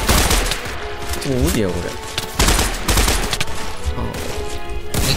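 Rapid gunfire bursts in Minecraft, in a zombie-escape map, rattling loudly and nearly without pause under excited talking.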